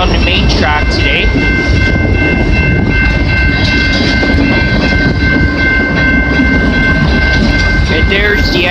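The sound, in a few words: CP freight train passing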